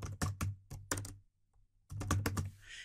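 Typing on a computer keyboard while renaming a branch in an automation tool, with close, quick clusters of key clacks separated by a brief pause and then another run of keystrokes.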